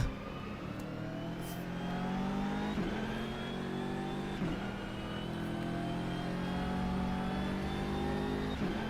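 BMW M6 GT3 race car engine in the rFactor 2 racing game during an endurance race at Portimao, a steady loud drone that repeatedly climbs in pitch through the gears, with brief dips at each shift and no talk.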